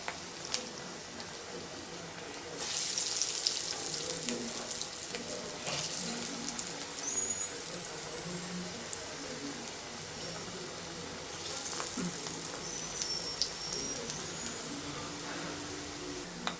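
Masala vada sizzle and fry in hot oil, a steady close bubbling hiss that swells when fresh batter goes in, continuous with no talking.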